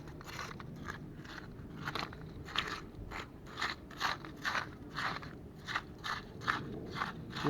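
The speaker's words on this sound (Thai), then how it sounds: "เสียงที่เราได้ยินเสียงตับๆ ก็จะเป็นหอยพวกนี้นะครับ หอยหวาน" Repeated sharp clicks and snaps from sweet snails knocking among rock crevices, scattered irregularly over a steady rushing wash of background noise.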